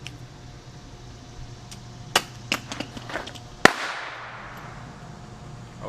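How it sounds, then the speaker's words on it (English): A VTG airsoft grenade loaded with a 9mm shell goes off in one sharp, loud crack near the end, followed by a fading hiss, with a few smaller pops just before it and steady background noise throughout. "What I have here is the VTG grenade."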